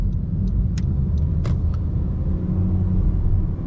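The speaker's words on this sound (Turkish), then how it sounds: "Şu an hızlanıyorum mesela araba." Steady low engine rumble of a 2021 Honda Civic 1.6 i-VTEC with CVT running on LPG accelerating, with a few faint clicks and ticks over the constant drone.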